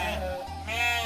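Goats bleat in a village at Cilengkrang near Sumedang, two close, loud calls back to back with a short gap between them.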